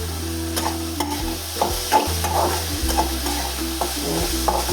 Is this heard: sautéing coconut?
yes